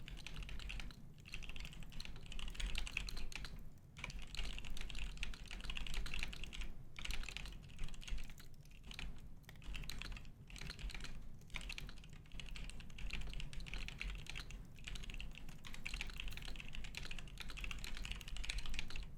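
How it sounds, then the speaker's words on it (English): Steady typing on a computer keyboard, with rapid irregular key clicks in quick bursts and brief pauses, fairly quiet and close, with no talking. "Typing."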